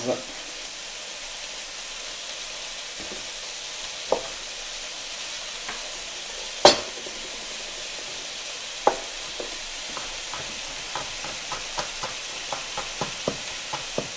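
Lardons, onions and crushed garlic sizzle softly in a pan under a steady frying hiss, with scattered spatula scrapes and clicks as they are stirred up close.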